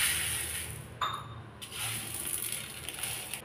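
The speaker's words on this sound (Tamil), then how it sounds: "இது வந்து கழுவிட்டு வந்துடலாம்." Half a tumbler of sago pearls (javvarisi) being washed in water in a home kitchen, splashing and swirling sloshes with a brief pause of stillness, close and alone.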